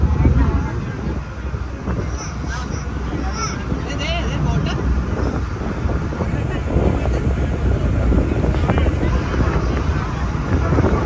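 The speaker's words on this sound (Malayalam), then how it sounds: "ബോട്ട് ഇങ്ങനെ ഓളം വെട്ടി ഇങ്ങനെ പോയിക്കൊണ്ടിരിക്കുകയാണ്" A motorboat churns steadily through sea waves off Kanyakumari, a constant rushing roar mixed with wind buffeting the microphone, with voices faintly underneath.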